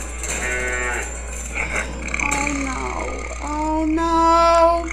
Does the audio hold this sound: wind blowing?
no